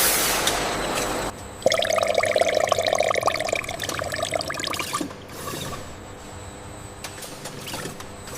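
Finished shampoo pours into a main holding tank in a factory, a steady liquid rush with splashy dripping textures over a constant machinery drone, close and fairly loud.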